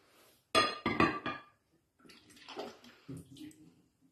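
Water glugging out of a bottle neck in a home science experiment, with a few loud gurgling bursts as an air bubble slips in, followed by softer watery rumbling and splashing.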